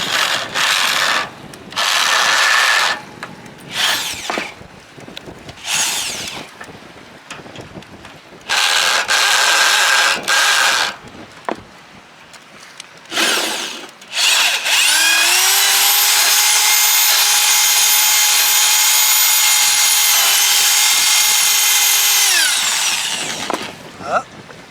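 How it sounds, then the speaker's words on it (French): A power drill enlarges and cleans out a hole in a sailboat's spinnaker pole, starting with several short whirring bursts and ending in one long steady high-pitched run. "Donc je perce pour agrandir, pour nettoyer le trou."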